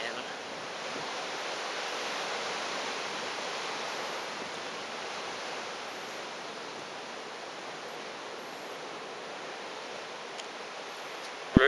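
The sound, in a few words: waterfall water pouring down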